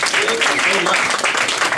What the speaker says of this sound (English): Give yourselves a round of applause for coming out, right?